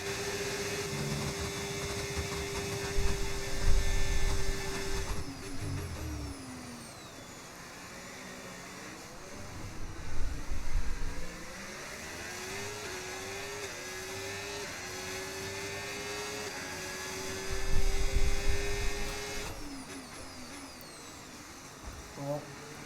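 F1 race car engines from a racing video game at Spa whine and rise in pitch as cars slipstream each other, swelling loud in several passes over a continuous engine drone.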